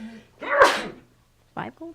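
A single sharp sneeze bursts out close by during a live board game session, followed by brief speech.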